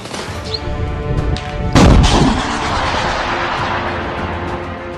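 Heavy gunfire or an artillery blast in a wartime attack by the Ukrainian army on Russian forces and a Russian boat at Mariupol, one sharp loud boom followed by a rumbling roar over constant background noise.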